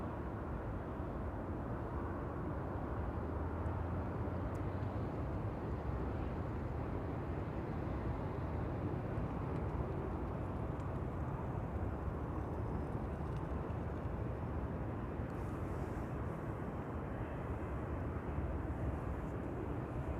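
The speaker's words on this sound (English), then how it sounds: "In the meantime, parallel departures in progress, with Air Baltic over there," Airliners, among them an Air Baltic jet, take off on parallel departures at Amsterdam Schiphol Airport, producing a steady, distant jet roar that holds evenly throughout without speech.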